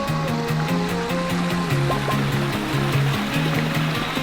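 Water splashing steadily from a backyard pond waterfall in a mountaintop landscape, a continuous close rushing wash with a tonal hum running through it.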